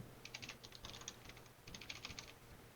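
Computer keyboard being typed on in short irregular bursts of crisp clicks, close but quiet, with no one talking.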